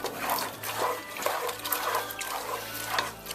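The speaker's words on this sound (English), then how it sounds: "I'm going to put half of this half gallon in there while I stir." Milk from a half-gallon jug pours into a bowl while cake batter for an Italian cream cake is stirred, making a continuous wet, sloshing wash with soft rhythmic swells of stirring.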